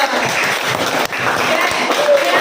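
Students in a classroom clap in a quick, dense burst after a correct answer, with voices mixed into the clapping.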